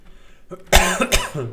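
An allergy cough from a man gaming at home, two loud harsh coughs close to the microphone with a throat-clearing quality, preceded by faint background sound.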